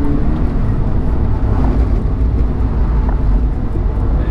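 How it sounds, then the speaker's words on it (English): A car sliding around a wet skid pan track, with a steady, loud engine drone and road roar that holds without break throughout, with no talk over it. "Just keep the car flowing around the track."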